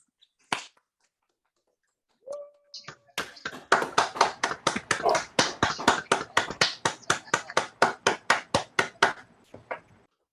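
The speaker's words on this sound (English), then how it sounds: "Maybe we can unmute and applaud our fine group of scholars." Participants in an online fundraising gala clap over unmuted connections, a few scattered claps at first and then a steady run of sharp, close claps that overlap unevenly for several seconds before thinning out.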